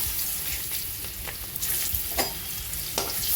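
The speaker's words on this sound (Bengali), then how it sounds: "এবার ওই তেলের মধ্যেই আমি আমের পিসগুলো ভেজে নেবো" Mango pieces fry in hot oil left over from frying fish, producing a continuous loud sizzle with scattered crackles and sharper spits, without any voices.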